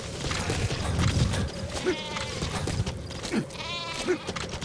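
A sheep bleats in the video game Metal Gear Solid V, two short wavering calls in the second half after a stretch of busy game noise and thuds, fairly close and clear.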